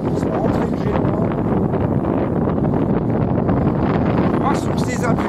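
Strong wind buffeting the microphone aboard a boat near the entrance of Leucate harbour, a loud continuous roar and rumble throughout, with someone talking in French over it.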